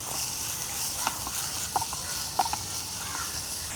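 Sliced onions with salt sauté in hot coconut oil with curry leaves, a soft, steady sizzle under a few faint stirring scrapes and clicks, near and without voices.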